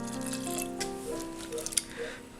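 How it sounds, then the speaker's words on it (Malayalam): About a cup of water is poured into a pan of onions for a Kerala onion curry, giving a brief trickle with a few splashy drips over a low hum. "ഇനി ഇതിലേക്ക് കുറച്ച് വെള്ളം ഒഴിക്കാം"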